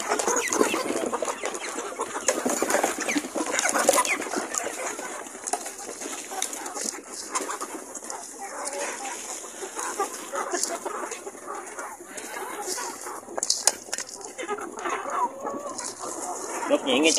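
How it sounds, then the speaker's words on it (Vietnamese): Backyard chickens cluck and chatter steadily while being fed chopped fresh papaya, a busy flock close by with occasional louder calls over continuous scratching and pecking noise. "giờ mình cho gà ăn thôi"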